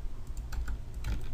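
Keys on a computer keyboard are pressed during 3D modeling work in Blender, a short run of quick, light clicks close to the microphone over low background hum.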